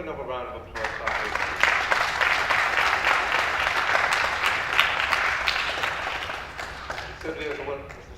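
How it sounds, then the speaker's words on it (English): An audience at a school board meeting breaks into sustained applause that swells and then fades, with a voice speaking before and after it. "let's give another round of applause"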